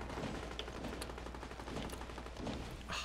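Gunfire in a Fortnite Battle Royale trios no-build match, rapid volleys of shots crackling continuously over a constant low hum, fairly faint and distant.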